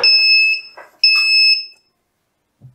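Two loud, shrill tones from an Arduino active buzzer, each lasting about half a second, with a short gap between them, then silence and a brief low thump.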